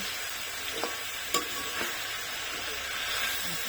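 Mixed vegetables sautéing in a pan, a soft continuous sizzle with a few sharp clinks of a utensil being stirred, close but fairly quiet, no talking.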